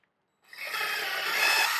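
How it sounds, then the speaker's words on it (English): A drill bores out an old buck rivet on an Airstream travel trailer, a steady close grinding whir starting abruptly after a brief silence and holding at full strength to the end. "So I'm going to drill out this old buck rivet and I'm going to install this one."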